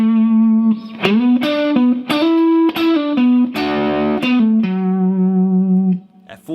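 Slow electric guitar phrase from a solo, distorted tone with effects, sustained bent notes and string slides in a steady singing line, played alone without talk.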